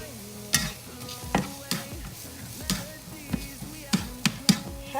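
Chili ingredients being stirred in a pot, a spoon scraping and clacking against the sides in repeated strokes, with a soft sizzle beneath and no talking.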